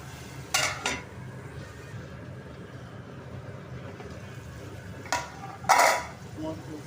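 A lid clatters and scrapes against a cooking pot during a village broad bean and tomato curry, several sharp metallic knocks in short bursts over a quiet background.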